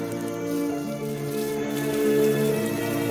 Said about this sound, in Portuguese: As primeiras gotas de chuva desencadeiam um evento incrível.